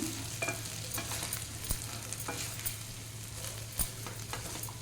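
Cooked rice and lentils for pulagam are stirred together with a spiced tempering, producing a steady broad hiss over a low hum. A couple of louder knocks and scrapes stand out, and no voices are heard.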